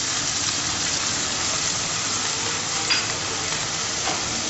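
Onions with turmeric and ground spices are stirred in a hot pan, making a continuous close sizzle with soft scraping, and no voices.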